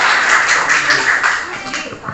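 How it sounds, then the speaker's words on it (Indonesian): A classroom of students claps together for classmates, a loud, dense patter of hands that holds steady and then begins to thin out near the end. "Oke, tepuk tangan untuk 9A, Ratu dan Kansa."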